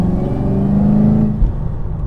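A Chevrolet Camaro ZL1 engine pulls under partial throttle, a loud, close, steady rumbling drone with a rising tone that dips briefly near the end.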